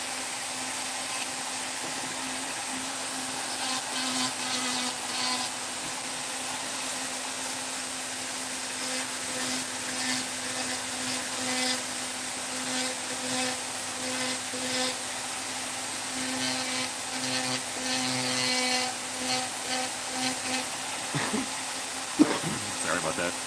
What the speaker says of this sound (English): you want to go lightly because the burrs will yank off some wood and chip it